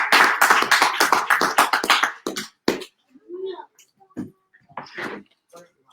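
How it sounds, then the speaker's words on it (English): A small gathering claps in a short burst of sharp, close hand claps that thin out into scattered taps, with a voice speaking partway through. "Let's get the most high round of applause"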